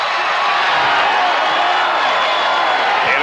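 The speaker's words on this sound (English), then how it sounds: "Crowd enjoyed that turnover." Crowd at Memorial Coliseum in Portland during a Bulls vs Blazers Finals basketball game, a steady, dense roar of cheering that stays loud and unbroken throughout.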